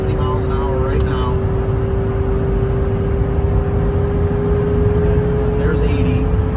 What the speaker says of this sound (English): And that SSI exhaust sounds so good.